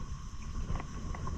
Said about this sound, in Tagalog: Ang lakas na ng hangin guys.